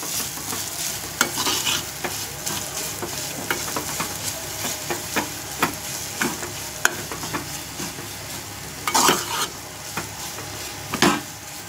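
Homemade onion and coconut masala paste with turmeric sizzles in a pan as a spoon stirs and scrapes it, a steady close frying hiss broken by scraping strokes.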